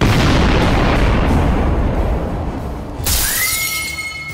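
The 2020 Beirut port explosion, caught on a home CCTV camera in Beirut: a massive blast roars with deep rumbling, then glass shatters and debris crashes as an alarm begins wailing.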